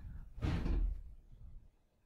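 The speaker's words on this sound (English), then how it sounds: "with someone slamming the doors" A door slams somewhere in a house, one muffled, heavy thud heard at a distance in a quiet room, fading quickly to near silence.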